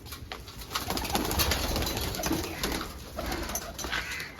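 Several pigeons coo continuously nearby, their soft throaty calls overlapping in a steady murmur with light rustling.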